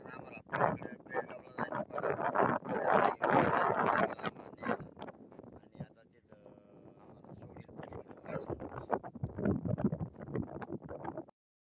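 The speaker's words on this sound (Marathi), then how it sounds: "हे बघा आमची होडी चालली बघा" Wooden boat crossing the Udayani river toward the Narmada, with wind buffeting the microphone and water rushing past the hull in rough, continuous bursts, then a brief lull before the churning resumes.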